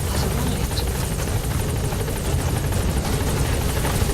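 A support helicopter arriving at a landing zone in Metal Gear Solid V: The Phantom Pain gives a steady, loud rotor thrum with rapid blade chop, close and continuous with no voices.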